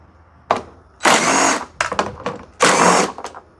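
A power tool removes 10mm bolts from the top of a Hyundai Santa Fe headlight assembly. It whirs close and loud in several short bursts, some longer and some brief, with quiet gaps between.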